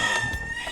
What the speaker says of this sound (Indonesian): Nah, wih, ada ayam tuh ya.